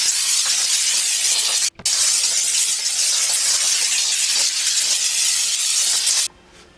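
Steam cleaner blasting motorcycle fairings with a loud, steady hiss that cuts out briefly once and then stops near the end.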